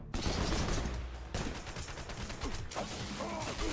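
Dense, continuous rapid gunfire from a video game, a sustained volley of overlapping shots with a brief dip and restart, loud and close throughout.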